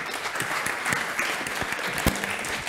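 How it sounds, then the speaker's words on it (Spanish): Warm audience applause at a Spanish Odoo conference session welcoming a speaker, a continuous patter of many hands filling the room with a sharp clap standing out. "Y turno para Nacho Hermoso de Mendoza, Le vamos a dar una calurosa bienvenida también y un aplauso"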